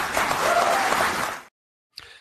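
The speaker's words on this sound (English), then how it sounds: "the crowd starts cheering" A studio audience on a late-night political talk show bursts into loud cheering and applause that sustains for about a second and a half, then cuts off to silence before a brief final burst.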